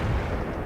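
A single heavy tank cannon shot in the World in Conflict war game, a loud low boom filling the short moment with a dense rumbling burst and no talk.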